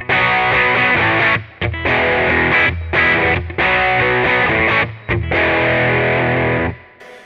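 Distorted electric guitar through a Kemper amp profiler on a Deluxe-style tweedy tone plays loud, sustained chords in several phrases with brief gaps, a full, bright, mid-heavy sound with no voices.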